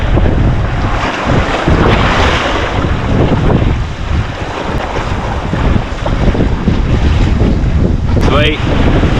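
Ocean swell and breaking waves off Tuahine Point near Gisborne, heard close while swimming out toward the lighthouse, a loud continuous wash with heavy wind buffeting the microphone throughout and no pause.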